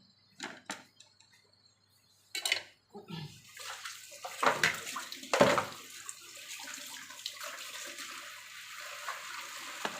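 Tap water runs in short splashes and then a steady stream while a whole ripe papaya is rinsed by hand, close and moderately loud, with brief handling knocks between the bursts.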